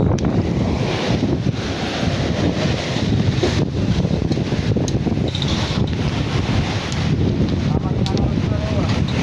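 Strong gusty wind buffets the microphone over the rush of waves, a constant loud roar with no voices.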